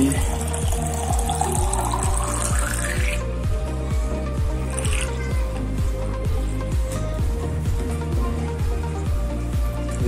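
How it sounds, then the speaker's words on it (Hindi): An RO mineral water purifier motor hums steadily while water streams into a container, its pulsing pump throb beneath a constant rushing flow, with no talking. "अब देखिए मशीन स्टार्ट हो गई और उसमें भी पानी बनना स्टार्ट हो गया"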